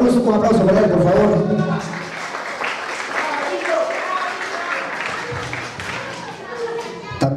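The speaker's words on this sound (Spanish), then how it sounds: "Un aplauso para él, por favor." Audience applause for Héctor de la Cruz at a San Martín de Porres community gathering, with a crowd clapping moderately loudly while voices, including children's, chatter over it throughout.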